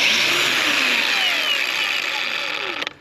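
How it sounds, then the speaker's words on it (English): A cordless Bauer angle grinder used for cutting metal runs at a steady, loud, high-pitched whine close by, then cuts off abruptly just before the end. "this angle grinder, I've used it quite a bit too, cutting a lot of metal with it"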